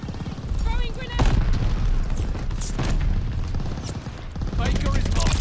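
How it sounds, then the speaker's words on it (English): Grenade blast in Call of Duty Vanguard multiplayer, a loud boom amid a steady din of gunfire and battle noise, with a player talking over the chaotic game action. "Throwing grenade."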